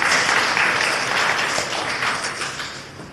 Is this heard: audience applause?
yes